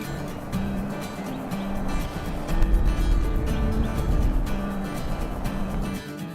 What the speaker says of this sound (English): Driving up Route 33 north for weekend camping